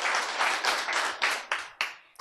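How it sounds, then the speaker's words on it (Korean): Bursts of clapping from a Korean lecture audience, a dense round of applause that breaks into several separate swells before dying away in scattered final claps. "박수."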